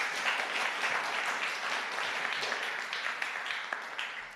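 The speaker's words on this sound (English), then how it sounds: "I've never gotten applause before for concatenating two strings." Applause from a conference audience at a programming talk, a dense, fairly quiet patter of many hands clapping at a distance, holding steady and then thinning slightly toward the end.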